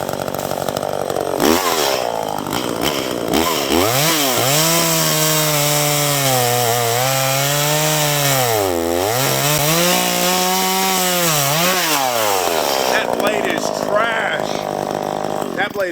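A chainsaw with a freshly sharpened chain runs loud and close, its engine revving up and down in long sweeps, then settling back near idle.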